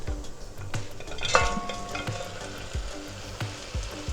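Lamb pieces sautéing in spiced oil for yakhni pulao, a continuous close sizzle punctuated by repeated metal spoon scrapes and clinks against the pot.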